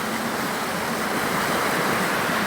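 A waterfall in Karura Forest, Nairobi, pours as a constant broadband rush of water, loud and steady from start to finish with no voices over it.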